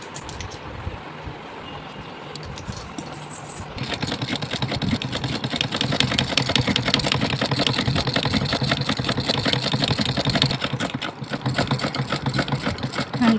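Sewing machine stitching a plain blouse, running as a steady rapid mechanical whir with dense rhythmic needle clatter, starting softly and growing louder and continuous after a few seconds, close and alone with no talk.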